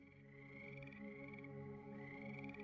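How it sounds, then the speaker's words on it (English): Frogs croak in a continuous, rhythmic trilling chorus, fairly quiet and alone, with no talking. "if you hear frogs,"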